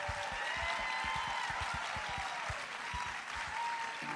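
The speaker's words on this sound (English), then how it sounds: "let's give a huge round of applause" Applause from the audience at a 2015 teen beauty pageant, a soft, distant wash of steady clapping that stays level throughout, with a rhythmic low thumping underneath.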